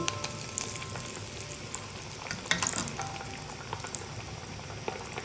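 Chicken leg pieces frying in hot oil in a clay pan, a close, dense bubbling sizzle with small pops and crackles running steadily throughout.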